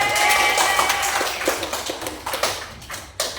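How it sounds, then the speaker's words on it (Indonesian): Applause from an audience at an education presentation, a dense patter of clapping that starts full and gradually thins out, with a few louder claps near the end. "terima kasih tepuk tangan buat itu"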